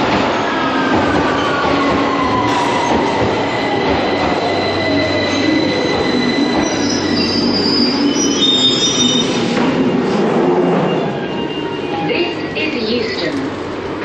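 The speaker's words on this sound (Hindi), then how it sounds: "अभी ट्रेन आ गई है जी, ये अंडरग्राउंड ट्रेन होती हैं यहाँ पे" A London Underground Bakerloo line train pulls into a station, loud steady rumble with high wheel squeals and screeching brakes close by, a voice talking briefly over it, the roar easing near the end.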